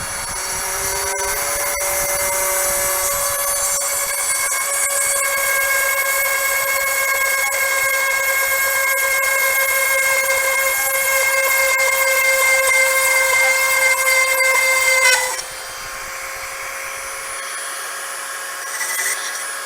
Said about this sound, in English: The Dremel will just go ahead and work out.